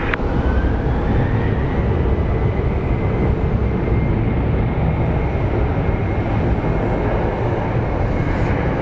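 A Delta airliner bound for JFK at Phoenix Sky Harbor gives off a loud, steady jet roar with broadband rumble that holds evenly throughout, with no voices.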